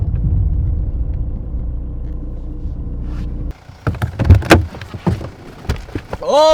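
A car on the road, heard first as a loud, steady low engine rumble from inside the vehicle, then cutting to sharper clunks and knocks that could be a door, close by, with a voice briefly at the end.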